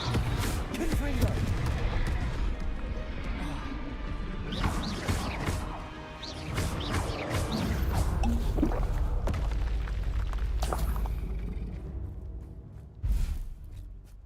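A Confringo fire spell goes off in Hogwarts Legacy as a string of booming, crashing blasts and impacts over a rumbling game soundtrack, with heavy hits throughout and voices talking over the action.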